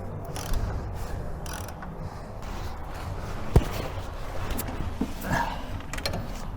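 Gearbox bolts on a 1303S VW Beetle being tightened with a ratchet: steady close mechanical clicking and rattling throughout, with one sharp knock midway and light movement around it, no talk.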